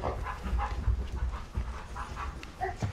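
Dog panting close by in a house that has lost power, a quick rhythmic run of breathy huffs throughout with a few small whimpers.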